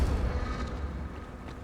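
Confringo blasting spell in Hogwarts Legacy, a deep booming explosive burst with rumbling low end that fades over a second and a half.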